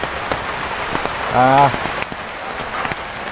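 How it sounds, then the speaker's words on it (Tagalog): Steady heavy rain pours without pause across the whole stretch, a dense hiss of drops on surfaces, with a brief tonal voice-like sound rising in the middle. "Wala tigil talaga ang ulan."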